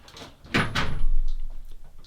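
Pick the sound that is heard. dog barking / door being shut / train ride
door being shut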